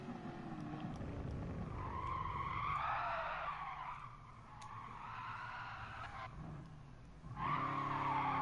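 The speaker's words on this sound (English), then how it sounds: "That was a pretty clean drift" A tuned car drifts with tires skidding and squealing in long, wavering screeches that rise and fall alongside the engine's roar, easing briefly before another loud squeal kicks in near the end.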